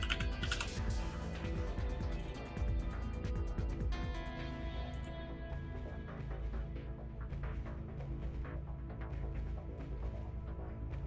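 Someone types quickly on a computer keyboard during a live game stream, producing quiet, rapid clicks over a constant low background of game sound.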